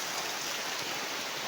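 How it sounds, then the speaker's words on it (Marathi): Heavy rain pours down in a steady, dense hiss that fills the short moment, close and loud, with no voices over it. "बघा कसलं पाऊस सुरू झालो हा."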